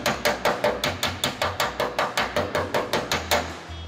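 A hammer pounds sheet metal held against a dolly while a crease is planished out by hand: a rapid, steady series of about sixteen sharp, ringing metallic blows, close and loud, with no talk.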